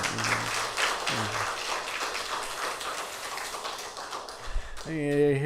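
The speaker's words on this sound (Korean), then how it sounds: "우리 현악기 해주시는 분들 다시 한번 감사의 박수" An audience at a Hanyang University chapel service applauds the string players with sustained, moderately distant clapping, and a voice speaking over a microphone rises at the very end.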